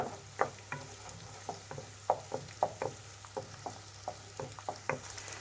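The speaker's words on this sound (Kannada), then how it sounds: "ಈಗ ನೋಡಿ ಮೊಟ್ಟೆನ ಚೆನ್ನಾಗಿ ಫ್ರೈ ಮಾಡಬೇಕು ಹುಡಿ ಹುಡಿಯಾಗಿ ಸ್ವಲ್ಪ ಒಲೆನ ಐ ಫ್ಲೇಮಲ್ಲಿ ಇಟ್ಕೊಳ್ಳಿ" Eggs frying and being scrambled in a pan on high flame for street-food-style egg noodles, with a steady sizzle under repeated sharp scraping strokes of a spatula, close and fairly loud, no talking.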